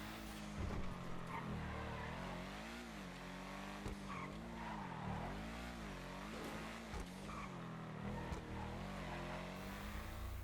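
GTA V's 8F Drafter, an Audi RS5-based car, drives with its engine revving up and down in waves while tires squeal and skid, sounding steady and fairly close with no talking.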